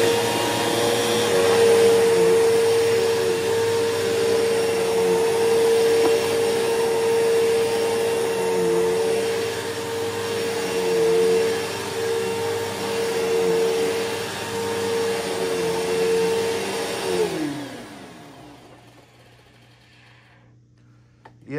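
A Bissell Powerforce Bagless vacuum cleaner with a noisy brush roller runs close up in a loud, steady whine for about seventeen seconds, then winds down and stops.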